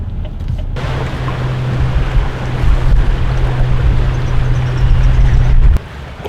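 Choppy, fast-rushing river water churns where the Welland River meets the Niagara, with strong wind buffeting close by: a loud, continuous rush and low rumble that cuts in abruptly and then drops away near the end.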